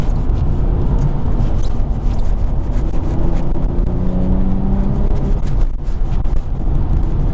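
Audi B5 RS4 Clubsport on a rough road gathering speed, a steady loud engine drone with rising tonal bands and road rumble throughout, heard from inside with no talking.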